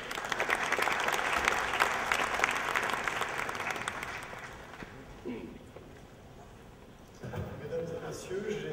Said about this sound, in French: Je vous demande d'applaudir M. Roland Cohen.